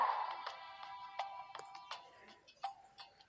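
A mobile phone ringtone plays faintly, a short melodic run of bright chiming notes repeating over a few seconds with no talking.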